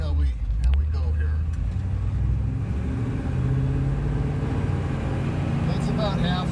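A 1957 Chevrolet Bel Air two-door hardtop cruises at half throttle at around 40 mph, its engine a smooth, steady low rumble that stays even from start to finish.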